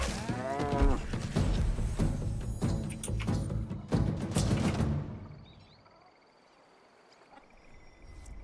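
A cow in the Runescape Dragonwilds video game lets out a long, loud, close moo lasting several seconds, then fades, leaving faint quiet game ambience.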